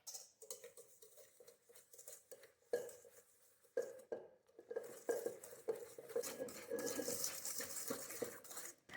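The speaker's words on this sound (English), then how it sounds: "I'm using my hand whisk" Sugar is whisked by hand with a wire hand whisk in a bowl, rapid metallic clinks and scratchy rattling coming in uneven bursts between short pauses, close up and moderately quiet.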